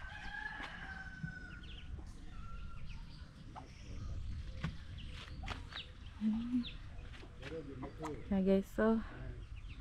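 Chickens clucking and a rooster crowing around a backyard shelter under an avocado tree, with ducks kept alongside; the calls come in short bursts near the end over outdoor background, and a person speaks briefly.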